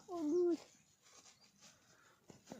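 A mother dog with puppies gives a single short whimpering whine near the start, close and moderately loud, followed by quiet room sound with faint movement.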